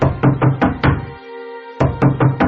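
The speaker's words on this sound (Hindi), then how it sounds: "इस बार मैंने दरवाजे पर दस्तक देना शुरू किया।" Knocking on a bathroom door comes in two bursts of four quick raps each, loud and close, separated by a short pause with a faint hum.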